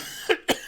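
Two quick, loud coughs close by, the second sharper than the first, from someone with a lingering cough.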